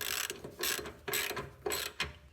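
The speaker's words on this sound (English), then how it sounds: "Got a 15mm ratchet, guys." A 15mm ratchet clicks in about four quick bursts of strokes, locking down an engine mount bolt during a turbo 6.0 LS swap into a G-body Monte Carlo SS. The pawl clicks are close and distinct, with no talk.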